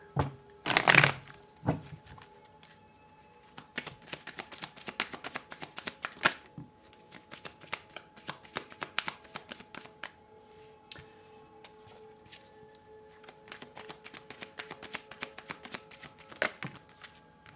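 Tarot cards shuffled by hand at a reading table, starting with a loud burst of riffling, then a long run of quick, close papery taps and slides in uneven rhythm.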